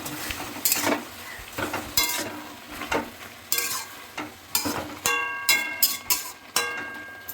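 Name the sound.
stirring tomatoes cooking in a pan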